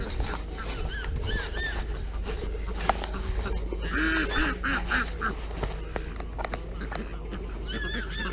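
Ducks quacking in a poultry yard, several bursts of nasal quacks in short runs over a steady background hum, moderately close.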